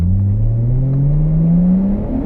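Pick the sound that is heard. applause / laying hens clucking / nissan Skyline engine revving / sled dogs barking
nissan Skyline engine revving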